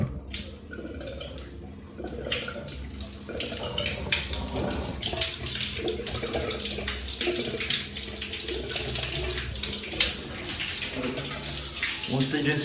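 Water gushes steadily from a shower mixer tap in a Singapore HDB flat bathroom, a continuous close splashing rush that lasts throughout, with a voice talking faintly underneath.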